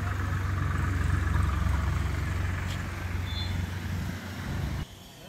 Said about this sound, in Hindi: चालू हालत में भाई ट्रैक्टर बिल्कुल